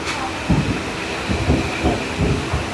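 Kolkata Circular Rail train running past Remount Road station, a continuous rumble and hiss with rhythmic clickety-clack wheel beats over rail joints, heard from inside the carriage.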